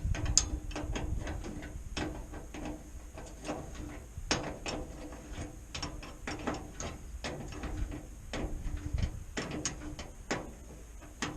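A ratchet wrench tightens a gas regulator hose fitting on a homestead, giving a close, continuous series of sharp clicking ratchet strokes in uneven bursts over about eleven seconds, with no voices.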